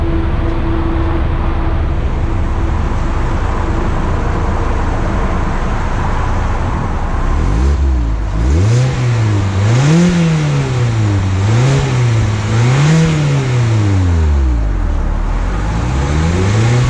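At the exhaust of a 2020 Mazda MX-5 Miata convertible, a steady idle gives way to a series of about five close, loud revs that climb and fall in quick succession over wind-like background noise.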